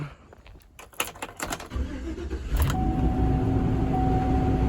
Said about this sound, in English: I gotta take the U-Haul back